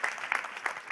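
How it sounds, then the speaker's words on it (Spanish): A church congregation claps together in a short burst, the steady patter of many hands rising and falling with a few sharper peaks, fairly near and without talk. "Denle un aplauso al Señor."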